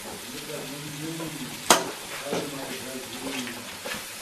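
Salt being stirred into mutton liver masala frying in a pan, a steady low sizzle with scraping spoon strokes and one sharp clatter partway through, with speech faintly in the background.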